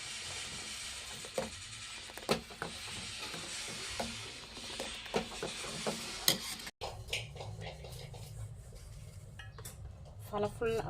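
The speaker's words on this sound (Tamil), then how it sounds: "சேர்த்துட்டு நல்லா மிக்ஸ் பண்ணி விட்டுறலாம்." Custard powder mixture being stirred in a cooking pot, with scattered utensil clinks and scrapes against the metal over a low background hum.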